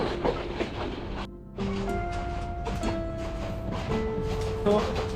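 A passenger train on the Dhaka to Kishoreganj route rumbles along the rails with a steady clatter and some tonal squeals, loud and close throughout.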